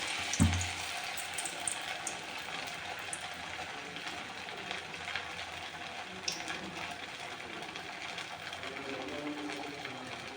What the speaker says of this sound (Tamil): இதை பாருங்கள் எண்ணெய் காஞ்சிச்சு இதை போட்டுக்கலாம்